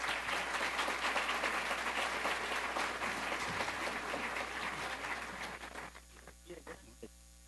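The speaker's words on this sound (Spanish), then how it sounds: "un aplauso para él." Audience applause welcoming a speaker at an international addictions congress, dense clapping over a low mains hum that thins out and fades to a few scattered claps near the end.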